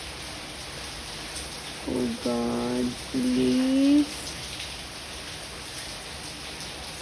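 Steady heavy rain hisses throughout in Dubai, with a short burst of speech partway through and a voice rising briefly over the downpour.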